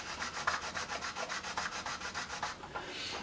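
A reed being sanded on a sanding machine, worked back toward the point of the crow under light fingertip pressure, gives a steady rhythmic rasping of about a dozen even strokes, close and alone.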